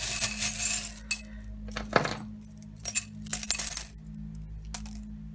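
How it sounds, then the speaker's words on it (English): Dice rolled onto a table in a tarot card reading, giving several sharp clattering hits and rattles in quick bursts, loud and close, with quiet gaps between the tumbles. "And I'm gonna roll the dice."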